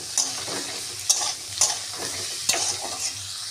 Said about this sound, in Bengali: কুমড়োটা মোটামুটি ভাজা ভাজা হয়ে এসেছে